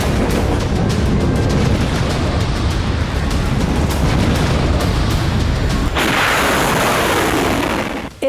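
Explosions from Israeli missile and bomb strikes on Iran, a loud, continuous barrage of dense booms and crackling blasts that rolls on for several seconds before an abrupt shift to a hissier rumble, with no talking.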